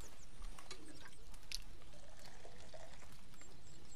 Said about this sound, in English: I'll pour me a cup of coffee.